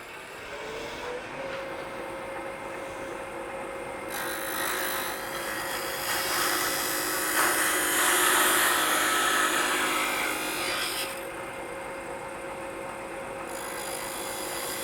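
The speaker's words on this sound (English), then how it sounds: "Now let's go ahead and part this one off." Wood lathe spinning a turned wooden flower piece as it is parted off, a steady loud whirring hum with a scraping cutting hiss that swells in the middle and eases toward the end.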